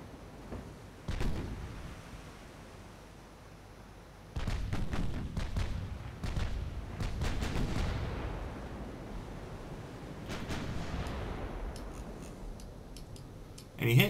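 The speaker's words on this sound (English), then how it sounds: "A couple of ranging shots." Naval guns fire a couple of ranging shots in the warship game Ultimate Admiral Dreadnoughts, heard as sharp booms around 1 and 4.5 seconds followed by scattered cracking reports and rumbling, with a final thump at the end.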